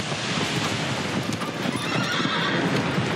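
A horse in the video game Shadow of the Colossus neighs and gallops, its hoofbeats and whinnies sounding loud and steady over a constant wash of rushing ambient noise.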